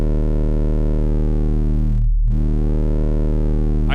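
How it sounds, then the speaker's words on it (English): A Serum 2 WASP circuit-model filter, modeled on vintage British synths, imparts a fuzzy, squishy buzz to a steady, loud sustained synth tone. The filter sweeps down into a brief dip midway before the buzzy tone returns. "So this is a circuit model filter that can cause like a buzz or kind of like a burble."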